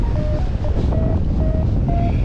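Steady, loud wind rushing over a microphone during a slightly bumpy flight, a continuous broadband roar with a faint recurring tone, no voices.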